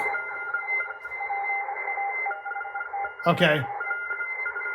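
Morse code CW signals bleeding through a wide receive filter on a small QRP CW-only ham radio transceiver, with several steady tones overlapping under hiss, and a brief spoken word partway through.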